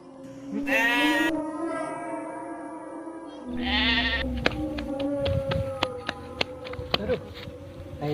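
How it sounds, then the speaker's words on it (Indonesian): A goat bleats in a wavering, nasal cry twice in succession, followed by scattered clicks and rustling in a lively outdoor setting. "Suara embe."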